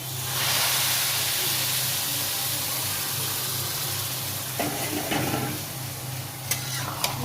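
Hot water poured into frying khichuri bursts into a loud, sustained steam hiss and sizzle close by, followed by a few scraping stirs and clinks near the end.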